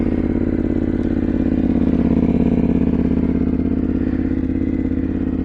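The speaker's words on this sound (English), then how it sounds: "I'm going to start the bike up." A motorcycle engine runs at a steady, loud idle close by, a dense rapid pulsing that holds unchanged throughout with no voices.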